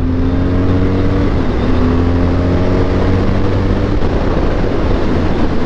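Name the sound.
motorcycle engine accelerating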